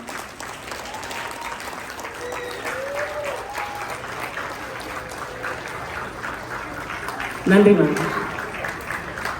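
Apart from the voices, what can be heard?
audience applause at a Tamil school graduation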